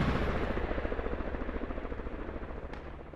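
A helicopter in the video game Squad, a loud, steady rotor thumping in rapid even pulses that fills the scene and slowly fades a little, with no speech.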